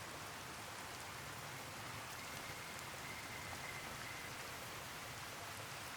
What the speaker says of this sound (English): I'm only willing to accept the game raining as often as it has been doing in New Vegas